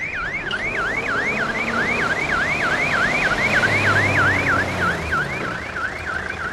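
Ambulance siren wailing in a rapid, regular up-and-down sweep, fairly loud and continuous over low road and traffic rumble, with no talk.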